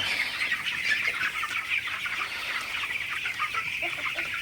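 Many broiler chicks in a warm, lit chicken house keep up a dense, continuous high peeping and chirping chorus, fairly close and steady with no talk.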